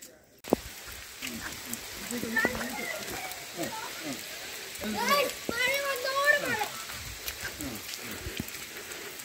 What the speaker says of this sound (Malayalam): അടിപൊളി മഴ വന്നു